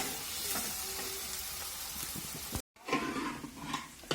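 Spices sautéing in a pan for dal tadka with homemade masala, a steady soft sizzle and frying crackle with a brief dropout and stirring scrapes.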